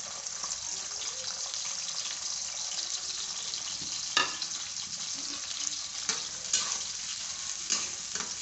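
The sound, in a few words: onion, garlic and ginger frying in oil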